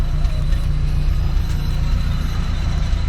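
A 1992 Nissan Hardbody D21 pickup truck's engine runs with a loud, close, steady low rumble, a slightly rough idle that continues without a break.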